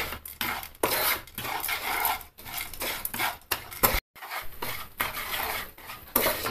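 Caramelizing sugar being stirred in a pan over a very low flame, with repeated scraping and clinking of a spoon against metal in short bursts broken by brief pauses, close and fairly loud.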